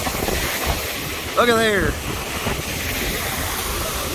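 Steady heavy wind buffeting the microphone on the Lake Michigan shore during gold panning, with a brief spoken phrase partway through.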